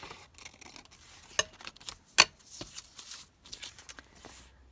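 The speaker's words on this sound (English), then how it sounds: "let's just cut that piece down here" Scissors cutting through a piece of envelope paper, a few crisp close snips and paper rustles spaced irregularly, with one sharper cut standing out.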